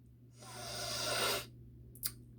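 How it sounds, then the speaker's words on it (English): A troll gives one loud, drawn-out sniff lasting about a second, close and breathy, followed by a short quieter intake of breath. "All of a sudden, the children heard a loud sniff."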